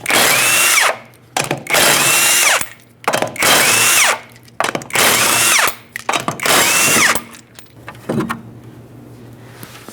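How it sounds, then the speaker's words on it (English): A power tool with a 19mm socket spins lug nuts off a 2006-2011 Honda Civic wheel, whirring loudly in five separate bursts, each followed by a short pause, with nobody speaking. "Use a 19mm socket to remove all 5 lug nuts and then remove the wheel"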